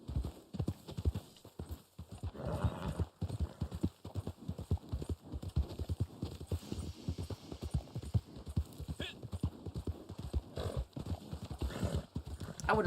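A horse ridden in the video game Red Dead Online produces steady, rhythmic hoof clip-clops for about thirteen seconds, close and even, over a low hum, with a brief whinny in the middle.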